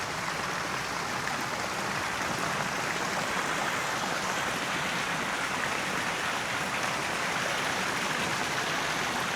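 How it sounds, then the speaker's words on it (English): Flowing water from decorative water features at a Bali beach resort, a steady broadband rush that stays constant and fairly near, with no talk over it. "there's so many beautiful water features"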